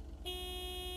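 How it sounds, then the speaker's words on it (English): A car horn in the video game LAKE sounds as one steady, sustained honk that starts abruptly after a brief quiet moment and holds loud to the end, with no talking over it. "Oh, I can honk."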